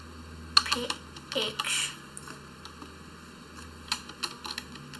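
Keys clatter on a computer keyboard in short scattered bursts of clicks, close by, with someone speaking briefly between them.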